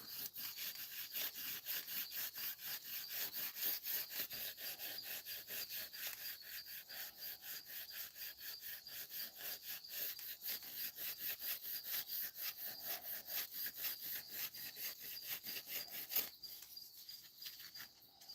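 Old gasket remnants scraped off the cylinder head of a 1996-05 Chevy Astro / GMC Safari, heard as fast, steady rasping strokes in a continuous rhythm, close and alone, ending with a sharp click.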